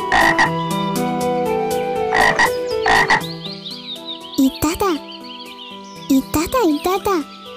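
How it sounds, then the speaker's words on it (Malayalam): Cartoon frog croaking in repeated short bursts, with musical tones and children's voices woven through the scene. "ഒരു ഉണ്ടക്കണ്ണൻ തവള."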